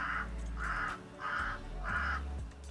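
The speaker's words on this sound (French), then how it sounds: "Je pense que vous entendez le corbeau" A crow caws four times in an even rhythm, each call harsh and drawn out, heard clearly at a moderate distance over a low background hum.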